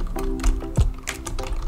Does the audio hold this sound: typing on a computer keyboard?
yes